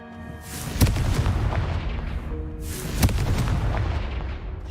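Two booming blasts of the Confringo fire spell in the video game Hogwarts Legacy, each a sharp loud crack followed by a rumbling roar, about two seconds apart.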